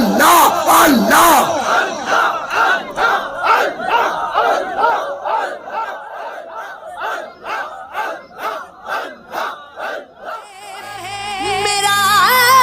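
A large crowd chants loudly and repetitively in unison at a religious gathering, rhythmic voiced calls pulsing steadily, with the chant shifting into a sung, music-backed passage near the end.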